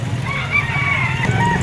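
A yellow-legged Picom gamefowl stag rooster calls briefly at close range, a short harsh crow-like cry over a busy yard background.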